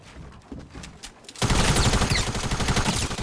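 Dense burst of automatic gunfire in the Fortnite Battle Royale video game, played on Xbox One X, erupting after a quieter stretch and continuing as loud, rapid sustained fire to the end.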